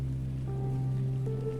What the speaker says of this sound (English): You feel a droplet or two of cold rain begin to fall from the sky